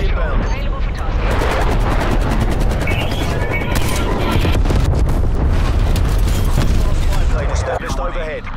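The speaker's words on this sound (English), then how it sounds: "Napalm strike inbound." A napalm strike in a video game sets off loud, continuous rumbling explosions and crackling bursts that roar for several seconds and then ease slightly near the end.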